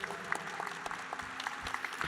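Audience applause for a game show participant at Japan Expo, a dense, steady patter of many hands clapping throughout with no pauses.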